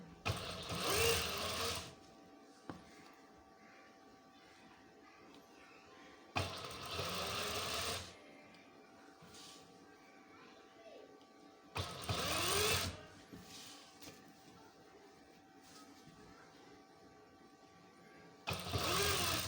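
Sewing machine stitching lining around a curved garment neck, running in four loud bursts of about two seconds each, separated by quieter pauses where only faint background hum and rustling remain.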